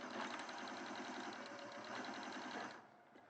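A sewing machine stitches a tapered dart in a fabric softie, its steady rapid needle rhythm running loud and close before easing off near the end.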